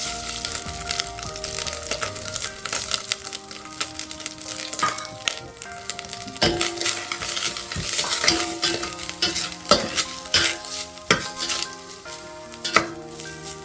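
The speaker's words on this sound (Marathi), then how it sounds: "थोडा 1 मिनिट आपण तो परतून घेणार आहे" Fresh grated coconut sautés in ghee in a pan, with a soft sizzle and intermittent scraping and stirring clinks throughout, under steady background music.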